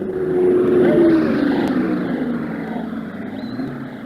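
Indy race car in the late 1960s or early 1970s, an engine drone roaring out of turn four onto the straightaway at Indianapolis qualifying, loud and sustained with a slight fading pitch, no voices.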